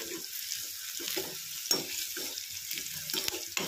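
Onions frying with mustard seeds in a pan for a North Karnataka brinjal dish, a continuous hissing sizzle with intermittent bursts of stirring and scraping close by.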